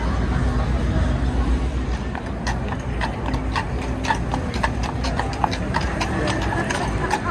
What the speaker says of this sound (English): I don't think I've ever seen horses here that are not in Central Park